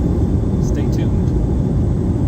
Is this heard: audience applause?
no